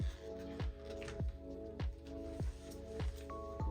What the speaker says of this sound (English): Pour from up high so the paint kind of goes to the bottom,